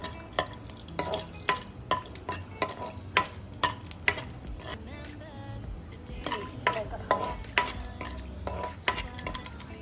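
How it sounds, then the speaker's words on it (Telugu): Cinnamon, cloves and cardamom stirred in hot oil in a pan, with a steady sizzle and a run of sharp utensil scrapes and clinks repeating irregularly throughout, close and fairly loud. "చెక్క, లవంగాలు, ఇలాచీ అండి వేసుకొని మిక్స్ చేసుకుంటాం కదా."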